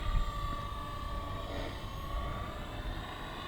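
A Blade 230 S RC helicopter flying, its steady whining rotor and motor drone holding constant at a moderate distance with no one speaking.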